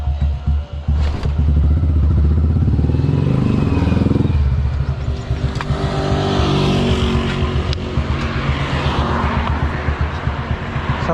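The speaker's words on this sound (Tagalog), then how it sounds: "mainit na yung makina ni Mia" A warmed-up motorcycle engine runs loudly and close by, revving up and then holding a steady, rough idle throughout, with no voices.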